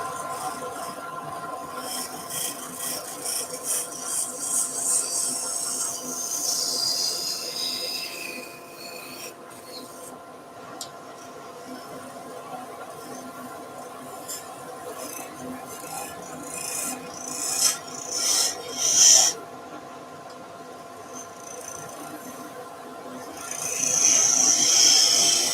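A skew chisel scrapes a resin-filled banksia pod spinning on a wood lathe, producing a steady rasping hiss over the lathe's hum, with brief louder scraping bursts near the end.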